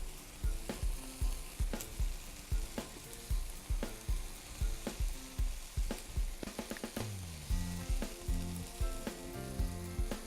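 Burgers topped with Vermont cheddar slices sizzle steadily in a pan, a loud continuous frying hiss punctuated by sharp crackles and pops throughout, with no voices.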